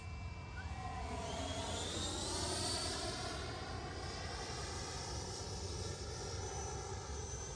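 A Freewing Avanti S 80mm electric ducted fan model jet makes a slow, low-power pass, its steady whine and rushing airflow rising and falling in pitch as it sweeps by at a moderate distance, filling the whole stretch without pause.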